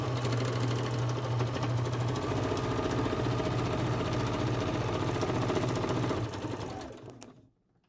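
A sewing machine stitches a quarter-inch seam down the side of a fabric face mask. It runs as a steady, fast mechanical whir up close for about six seconds, then slows and stops.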